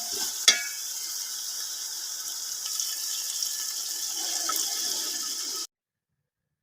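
Water poured into frying masala in a pot for peas pulao, with tomato and whole black peppercorns, giving a steady sizzle and hiss after a sharp splash at the start, then cutting off abruptly.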